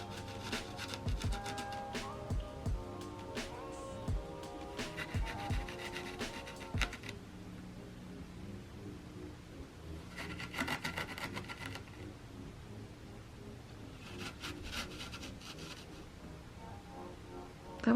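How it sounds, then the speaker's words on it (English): Fine sand in a small tabletop Zen garden is pressed and scraped with a tool, producing soft gritty rubbing strokes in irregular bursts with quiet gaps between them, close and fairly faint. "this sand is a lot more fine, so we'll see if the pressing is a lot more satisfying for this kind of sand"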